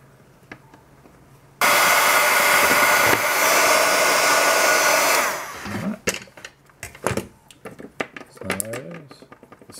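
A heat gun blows a loud, steady roar for several seconds while shrinking heat-shrink tubing over a resistor, then cuts off, followed by scattered clicks and handling noises close up.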